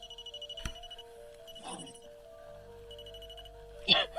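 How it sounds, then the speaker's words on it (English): A REM pod ghost-hunting device sounds its alarm during a night investigation in Tonopah, Nevada. Thin, sustained electronic tones hold steady in a quiet space, with faint, muffled sounds around them and a short burst near the end. "George, you're actually the first spirit that has ever hit one of our REM pods"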